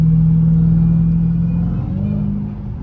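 Dodge Demon 170 cruising in traffic, a loud steady low engine drone with a faint high whine riding on top, pitch stepping up slightly near the end, no talking.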